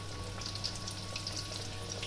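Egg-coated pork loin slices fry in a pan with a steady, continuous sizzle and crackle, close by and fairly quiet, with no talking.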